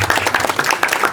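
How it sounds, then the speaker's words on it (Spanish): Audience at a live ocean forum applauding to welcome a speaker, a steady burst of many hands clapping throughout, fairly close and loud, with no talk over it. "por favor, un aplauso para Paola y la recibimos."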